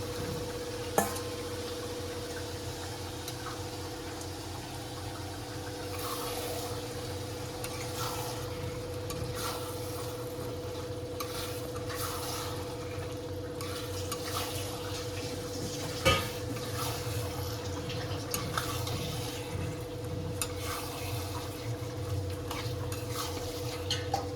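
Chicken pieces tipped into a pan of fully cooked spice paste for chicken biryani and stirred, giving a steady close sizzle with soft scraping and a couple of sharp clanks of the spoon against the pan.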